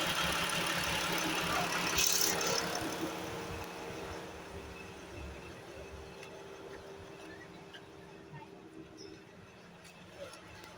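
A Mercedes-Benz GL V6 diesel engine idles with a steady low rumble, a brief louder rev early on, then settling quieter; faint talk in the background.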